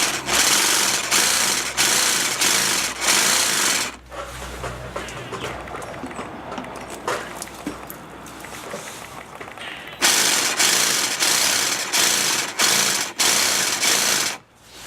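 Loud, rapid mechanical buzzing of a jigsaw cutting tile in long bursts, broken by a quieter stretch of rattling and clatter before cutting resumes.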